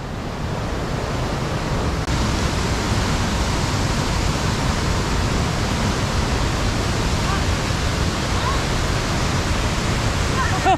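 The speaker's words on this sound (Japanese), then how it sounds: "ひっそり滝やな" Heavy water flow pours down Akame 48 Falls, a steady, loud, dense roar of falling water that holds unbroken from start to finish, with no other sounds rising above it.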